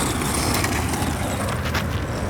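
An Arrma Fury two-wheel-drive RC car drives and drifts, giving a steady, loud, close whirring rush of motor and tire noise that holds for a couple of seconds with no talk.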